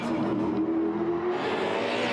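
A V8 touring car roars past during the Bathurst 1000 Top 10 Shootout, its engine note steady and loud with a slight pitch shift as it passes, heard without talk.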